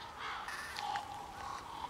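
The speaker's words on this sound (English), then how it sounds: "Look at the birds." Crows cawing in the horror video game Lies Beneath, several harsh calls overlapping and repeating across a quiet eerie ambience, moderately faint and without talk.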